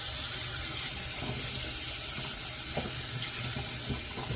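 Tap water running to rinse a shaving soap puck, a continuous, loud, close rush of flowing water with faint splashes over it throughout and no voices.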